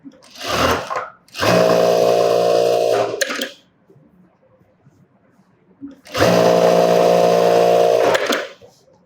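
An electric sewing machine runs in two sustained bursts while edge-stitching a piece of lining, a steady loud whirring hum, with a short start before the first burst and a quiet pause in between.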